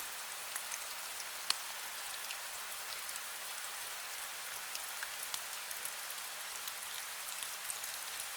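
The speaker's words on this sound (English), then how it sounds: "Imagine a raindrop on the sky." Raindrops falling in a steady, dense patter on a surface, even and unbroken throughout with no voices.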